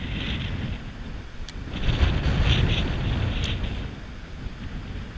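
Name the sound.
strong wind on the water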